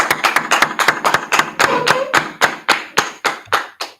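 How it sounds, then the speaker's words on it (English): About fifteen sharp hand claps ring out at a steady rhythm, loud and close, with no talking, at a Tuesday Brotherhood class in Houston. "Clap it up, Israel."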